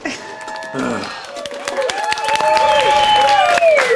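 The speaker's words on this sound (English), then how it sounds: "I think the applause is for the winners" An audience claps and cheers for winners, a dense wash of applause building steadily and growing louder toward the end.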